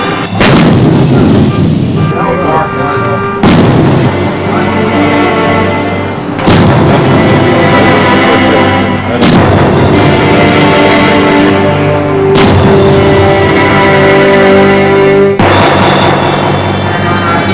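Naval artillery guns fire a series of heavy, very loud booms, about five shots spaced a few seconds apart, each ringing out with a long metallic reverberation.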